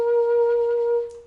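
A single sustained forte G rings out on a wind instrument during a Ferling etude, one steady clean tone held for about a second before it fades.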